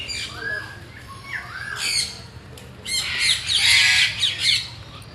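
Noisy birds squawking at a wildlife park, harsh bright calls in several bursts that grow louder and denser toward the end, with no talking.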